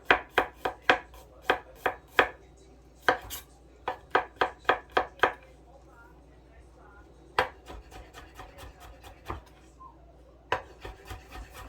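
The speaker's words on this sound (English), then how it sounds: "We're going to start by just thinly slicing our garlic" A knife thinly slices garlic on a wooden board in quick, sharp taps, coming in rapid bursts with short pauses between them, close and crisp, with a brief lull of quiet handling in the middle.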